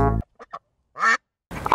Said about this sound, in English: these are two of my Peking ducks